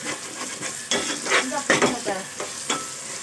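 A masala of onion, ginger-garlic paste and tomato sautés in a pan, with a soft frying sizzle under repeated scraping and stirring strokes of a spoon.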